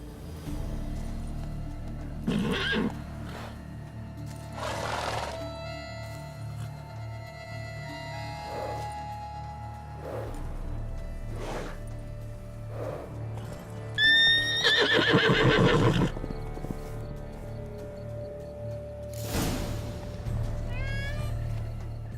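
A horse in The Witcher 3: Blood and Wine whinnies and snorts several times over soft hoof clops and quiet game ambience, with occasional character voices.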